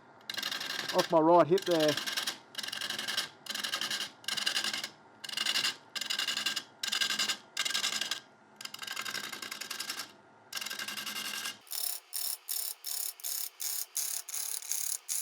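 A gouge cuts a spinning wooden chopping board on a wood lathe running at about 718 RPM, giving repeated close rasping passes with brief pauses, then a run of quicker, sharper strokes. Someone speaks briefly over it.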